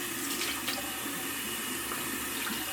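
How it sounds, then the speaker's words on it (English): A handmade test bar of soap is worked into a lather under a steady running tap of very hard water, and the faucet gives off a constant close rush with no one speaking. "Let me lather up."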